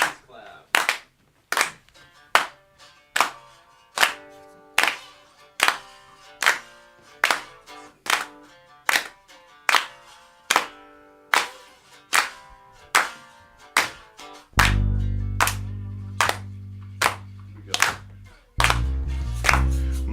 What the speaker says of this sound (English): If you could please clap along at home, ladies and gentlemen